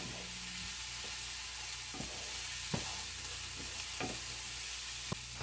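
Crushed red pepper flakes sizzle in a hot pan with a steady close hiss, broken by a few sharp clicks and scrapes of stirring; no one speaks.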